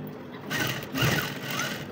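Sewing machine stitching dress fabric down toward the shoulder, a close, fast mechanical whir that runs in short bursts with a brief pause between them.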